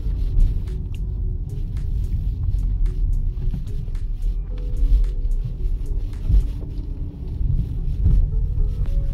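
A 2018 Hyundai Tucson 2.0 automatic AWD rolls over a rough road, giving a steady loud low cabin rumble with soft suspension knocks and thumps scattered throughout.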